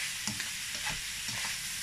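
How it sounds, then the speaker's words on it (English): Mixed carrots, green beans and corn for a shepherd's pie sizzle in a pan as they're stirred, a dense steady frying hiss with a few soft scrapes, no talking. "just mix it all together"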